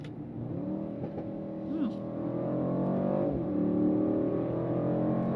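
A 2025 Mercedes-AMG GLE 63 S Coupe accelerates hard in Sport Plus mode, heard from inside the cabin as a rising engine drone that builds steadily louder, with a voice talking over it.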